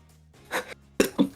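A single person's sneeze, quick and explosive, with a brief intake followed by sharp bursts close to the microphone and no talking.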